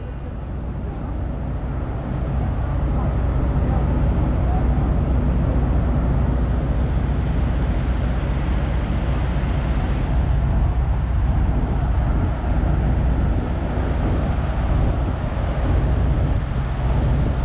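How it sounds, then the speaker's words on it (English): Around a hundred diesel truck engines idle together at the world's largest truck stop in Iowa, a loud, constant low rumble with broadband drone that swells slightly and holds steady throughout. "it is essentially 100 idling diesel engines"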